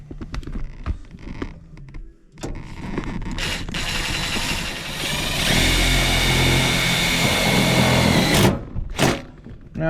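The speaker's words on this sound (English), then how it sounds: "Now I just gotta get the screws in the holes." A power drill drives screws into an old Chevy truck hood being made into a dashboard, with a few short buzzing bursts and clicks followed by a long, steady whirring run that ends abruptly.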